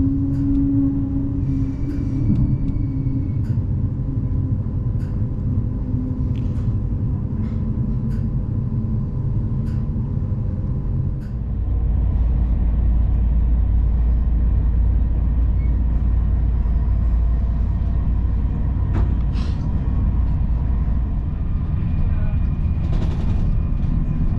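Interior of a DB ICE 1 high-speed train on the move, a steady loud low rumble and rolling hum throughout that grows heavier about halfway, with faint high whines and scattered small clicks above it.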